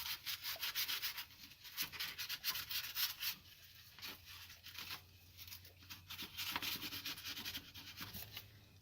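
A wire brush scrubs a Ford F150 rear truck differential in steady, close, rasping back-and-forth strokes that keep going without pause and without talk.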